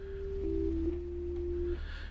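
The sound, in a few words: synthesizer sine wave tone in Kontakt 8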